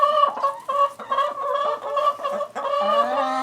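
Several chickens cluck and squawk in overlapping bursts, close and fairly loud, with a steady chorus of hen calls throughout.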